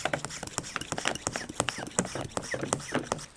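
A hand pump garden sprayer is being pumped, giving rapid, irregular clicks and squeaky mechanical pulses, close and fairly quiet.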